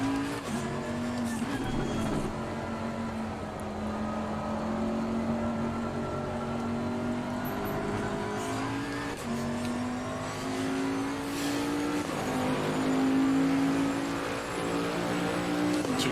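Bentley and Porsche race cars battling around the Nordschleife in Assetto Corsa, engines droning and revving steadily with shifting pitch through gear changes, continuous and fairly close.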